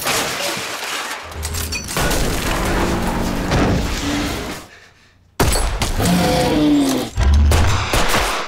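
Gunfire against a monster in the Korean series Gyeongseong Creature: loud, dense bursts of shots and crashing impacts, broken by a brief near-silent gap, then more heavy blasts and booms.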